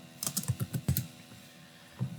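CSS code being typed on a computer keyboard: a quick close run of about eight light key clicks, a pause, then one more tap, with no talk.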